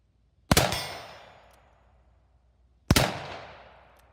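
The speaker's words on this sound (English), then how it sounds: "The Colt with 25 grains of gunpowder this time." Two loud, sharp reports from a Colt Walker 1847 black-powder revolver loaded with 25 grains of gunpowder, each blast ringing out and decaying over about a second, spaced roughly two and a half seconds apart.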